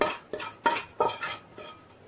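A spoon scrapes and taps against a ghee-greased plate as tomato barfi mixture is turned out and spread, giving four or five distinct metallic clinks and scrapes in an uneven rhythm, close and fairly loud.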